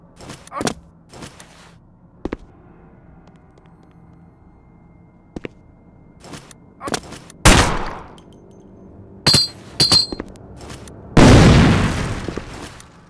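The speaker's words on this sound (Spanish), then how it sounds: "Disparo." Scattered sharp gunshots from a video game, with single pops and short bursts spread irregularly, ending in a longer loud burst of fire.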